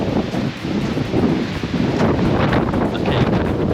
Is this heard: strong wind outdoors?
yes